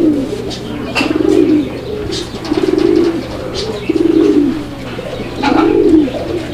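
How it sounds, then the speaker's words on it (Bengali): Male pigeon at a breeding farm coos in repeated rolling phrases, close and clear, with several calls rising and fading over a few seconds and faint chirps from other birds behind. "দর্শক আপনারা দেখতে পাচ্ছেন নটটার যে পরিমাণ ডাক"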